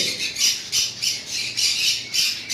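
A pet bird squawks in a breeder's cage, giving about six loud, harsh, close squawks in a steady rhythm with no talking.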